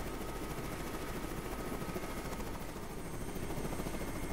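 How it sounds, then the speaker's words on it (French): A cartoon helicopter flies with a steady, loud rotor chop and engine whine that continues unbroken with no speech. "Alors ce matin, tu es pilote d'hélicoptère, Martin."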